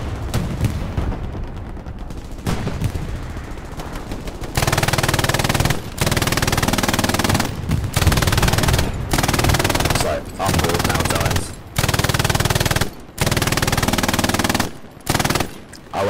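Airsoft machine gun firing from the top floor of a building during a skirmish match, sustained loud bursts of rapid fire with short pauses between strings, after quieter sporadic shots and player chatter at the start.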